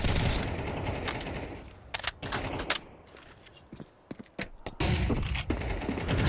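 AK rifle gunfire in a Counter-Strike match, loud bursts of rapid automatic shots and sharp single cracks mixed with mechanical clatter and in-game effects, dense and close.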